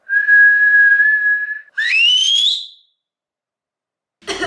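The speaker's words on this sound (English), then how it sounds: "I think I can whistle aloud." A person whistles a long steady note, then a second rising, wavering note, followed by silence and a brief burst of noise at the end.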